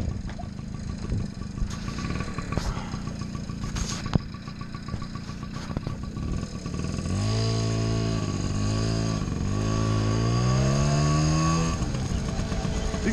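A 1982 Honda Express NC50 moped's small two-stroke engine fires up after a single kick start, then idles steadily close by and revs up and down several times, rising and falling in pitch.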